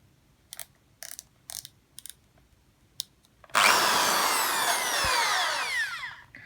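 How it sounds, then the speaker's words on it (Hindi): A Hyundai electric drill fitted with an 8 mm bit whirs up to full speed and bores steadily and loudly after a few short clicks and taps, then slowly tails off. "तो यहाँ से आपको ड्रिल करके दिखाता हूँ।"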